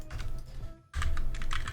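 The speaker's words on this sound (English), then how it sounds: "typing is so hard" Rapid, close computer keyboard typing clatters steadily while code is entered, breaking off for a brief pause before resuming in a dense run of keystrokes.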